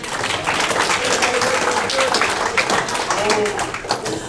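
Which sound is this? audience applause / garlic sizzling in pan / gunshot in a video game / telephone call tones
audience applause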